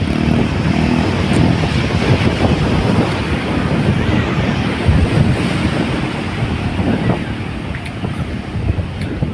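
Strong wind on Arnala beach in Virar buffets the microphone in a loud, continuous roar, blended with the steady wash of surf, with no let-up throughout.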